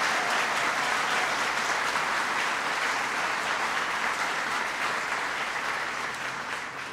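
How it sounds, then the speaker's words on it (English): Sustained loud applause from a crowd in a community college hall greeting members of Congress, steady clapping throughout that eases slightly toward the end. "Please give them a big round of applause."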